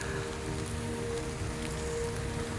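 Steady rain falls on foliage in a forest garden, a dense continuous patter of drops close by with no voices.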